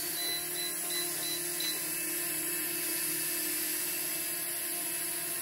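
A Holy Stone HS340 mini drone flies after a DIY motor replacement, its tiny motors giving a steady high-pitched whine and buzz, continuous and fairly close, with no talk.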